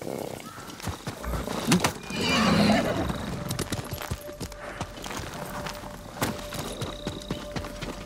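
Horses in the Ghost of Tsushima video game give a sharp whinny and snort over quiet clip-clopping hooves, with soft footsteps and faint ambient game sounds throughout.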